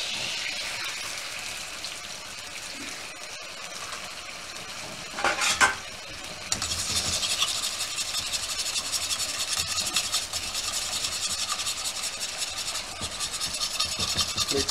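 Eggs stirred in oil in a wok for chicken fried rice, with a steady close sizzle and scraping stir strokes running throughout, plus a brief louder clatter partway through.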